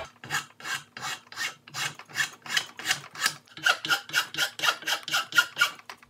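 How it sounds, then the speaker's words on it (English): A hand file rasps in steady, even strokes across the edge of a muzzleloader part to smooth away burrs, about twenty close, rhythmic scrapes that quicken slightly toward the end, with no talk. "All right, now I will smoothen out the burrs right here in the edge and finish shaping it off"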